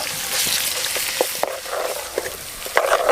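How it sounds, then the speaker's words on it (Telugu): Ginger garlic paste dropped into hot oil with browned onions for chicken curry sizzles loudly and steadily close by, with scattered sharp pops and spoon stirring clicks throughout; nobody speaks. "దాని తర్వాత మనం అల్లం వెల్లిపాయ పేస్ట్ వేసుకుందాం."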